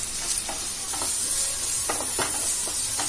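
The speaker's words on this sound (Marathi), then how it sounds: "तेल घातलंय पॅन मध्ये. कढीपत्तो, 2 हिरवे मिरची मधून कापलाय आणि 2 छोटे कांदे बारीक चिरून घेतलाय." Curry leaves, halved green chilies and finely chopped small onions sizzle in hot oil in a pan, a steady close hiss broken by a few sharp crackles and stirring scrapes, with no voices.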